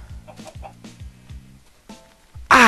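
A Minecraft chicken clucks in a series of short, evenly spaced clucks, fairly close and clear, before a sudden loud burst of noise cuts in at the end.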